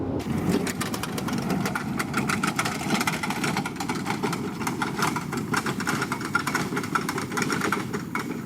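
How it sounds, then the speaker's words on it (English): Motorcycle engine running steadily and fairly loud throughout while riding on a rough road, a continuous mid-pitched drone with no talking. "just pulled through here on my motorcycle"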